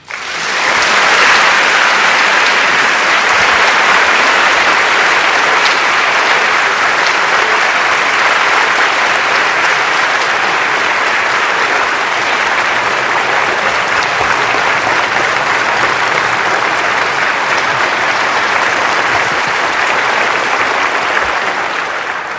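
A university lecture hall audience applauds Professor Randy Pausch with loud, sustained clapping that holds steady for over twenty seconds without letting up.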